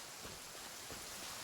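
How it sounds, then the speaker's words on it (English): Steady rain falls in Genshin Impact, a dense, even hiss of many drops with soft low patter, constant throughout and with no voices. "it's raining quite a bit, isn't it?"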